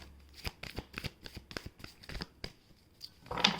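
Cards are shuffled in a quick, irregular flurry of soft riffling snaps, close up and fairly quiet.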